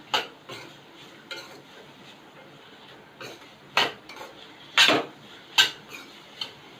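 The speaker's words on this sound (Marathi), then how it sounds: "आपण वाटाणे चांगले परतून घेऊया तेलावर फोडणीवर" A spoon scrapes and clacks against a pan in several sharp strokes while black peas cook in tempering oil with a low, faint sizzle underneath.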